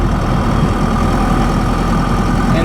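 Ford F150 pickup with a swapped-in 4BT Cummins diesel, lugging at low revs in fourth gear on a rough road: a loud, steady, rumbling engine drone fills the whole stretch without pause.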